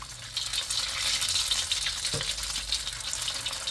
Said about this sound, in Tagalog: mas maganda kapag ipiprito natin siya dun sa lubog sa mantika.